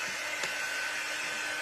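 A hair dryer blows on freshly painted stripes for patriotic decor, a steady close whooshing drone with no talking.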